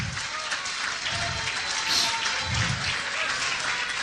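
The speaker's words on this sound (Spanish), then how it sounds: "Más fuerte aplauso." Church congregation applauding together in steady, dense applause, with a faint voice audible beneath the clapping.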